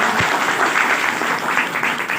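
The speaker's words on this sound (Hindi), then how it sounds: "एक बार अनिल जी के लिए भी जोरदार ताली" An audience claps loudly for a guest during a Hindi motivational talk, a dense steady wash of applause lasting the whole moment with no voices over it.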